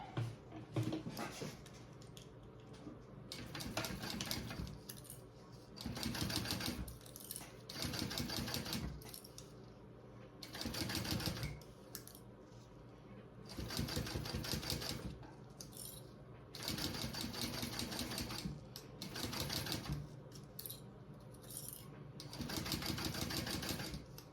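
A sewing machine top stitching binding onto a mesh travel belt, its needle chattering in fast bursts of a few seconds each, broken by short pauses as the fabric is repositioned, close and fairly loud with no voice.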